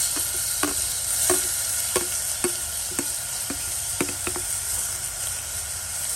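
Chopped onion and tomato fry in a pan for a bitter gourd dish, a soft continuous sizzle punctuated by regular light clicks of a spoon stirring against the pan, close but moderate in level.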